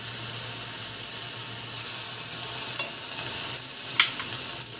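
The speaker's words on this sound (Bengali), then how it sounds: "নাড়িয়ে দিচ্ছি, সব একসঙ্গে করে দিচ্ছি" Chilli powder, cumin, coriander, turmeric and ginger fry in a pan for a Bengali fish curry, a steady close sizzle with stirring scrapes and a couple of sharp clinks of the spoon against the pan, no talking.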